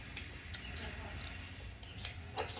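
Scissors cut material for a homemade turkey diaper in a few quiet, crisp snips spaced irregularly across the moment, set against a soft indoor background.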